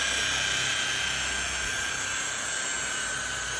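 A power sander or buffer runs steadily on a car's clear coat while rubbing back bad paint, making a loud continuous close whirring hum with a bright hiss that barely changes over the few seconds, and nobody talks.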